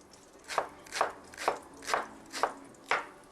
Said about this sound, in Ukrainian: Цибуля порей розрізаємо навпіл і нарізаємо.